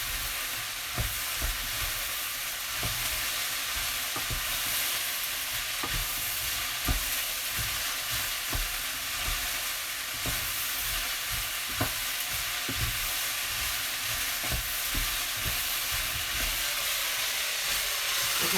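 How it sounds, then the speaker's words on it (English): Shredded cabbage sweating in a hot pan for a Tuscan cabbage and bean soup, a steady loud sizzle and hiss with repeated scraping strokes of a utensil being stirred through it, close and continuous. "Just want the cabbage to sweat a bit and reduce in size."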